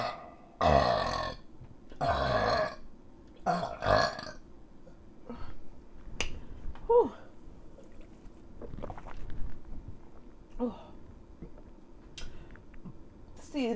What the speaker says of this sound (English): See about these burps I got.